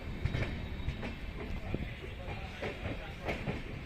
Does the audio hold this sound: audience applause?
no